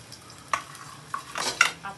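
Tomato, onion and green chillies go into a pan, with a faint sizzle broken by a few sharp clinks and scrapes of a spoon against the pan, close and brief.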